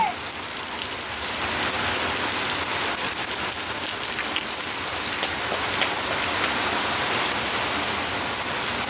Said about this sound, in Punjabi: بارش ਬਹੁਤ ਵਧੀਆ ਹੋ ਰਹੀ ਹੈਗੀ